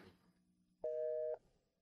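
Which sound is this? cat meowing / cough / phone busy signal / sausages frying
phone busy signal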